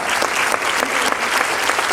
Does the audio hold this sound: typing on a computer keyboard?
no